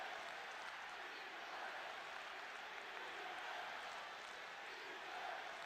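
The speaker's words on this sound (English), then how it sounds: "There's obviously just like one audio track that's looping crowd noise" Crowd noise in the CD-i football game Striker Pro forms a steady, faint wash of cheering and applause that loops continuously with no change in level.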